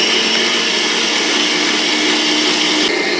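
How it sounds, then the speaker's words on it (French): An electric hand mixer runs at maximum speed while beating corn-flour cake batter, giving a loud, steady, unbroken whir up close. "Si j'allume mon batteur, ça va être mieux. Et c'est parti pour quelques minutes à vitesse maximum."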